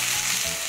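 Chicken breast meunière sizzles and fries steadily in a pan as the skin crisps, a close, continuous hiss with no talking.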